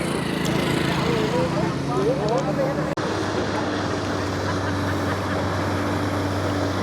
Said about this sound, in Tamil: இந்த இன்னொரு போட் வருது